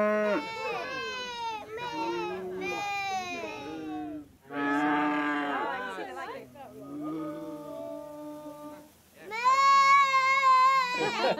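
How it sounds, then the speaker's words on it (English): Cartoon cows mooing on a children's farm show, a string of long drawn-out moos with wavering pitch, loud and near, some calls overlapping, no speech over them. "The cows go moo."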